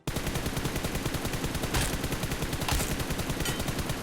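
Loud, rapid automatic gunfire from the BGMI mobile battle royale game, a dense unbroken stream of shots at close range running throughout, with no talking.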